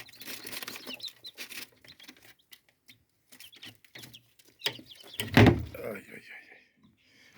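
The drawer of an HHD 56 egg incubator slides once with a loud scraping knock near the end, while people talk quietly nearby before and after it.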